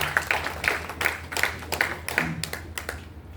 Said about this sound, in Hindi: तो आप सबकी तालियां चाहता हूँ ऐसे समाज व्यक्तियों के लिए।